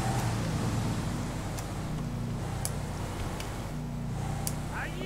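Steady engine drone and road rumble of a car overtaking in GTA V, a continuous moderately loud motor hum with faint ticks and a rising tone near the end.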